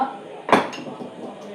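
Flour dough for Diwali mixture being stirred by hand in a metal vessel gives one sharp clank against the pot midway, then a faint scraping shuffle fades out; nobody speaks.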